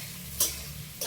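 Vegetable curry cooking in a little oil in a pan, a steady soft sizzle with a couple of brief stirring scrapes, quiet and close, no talk.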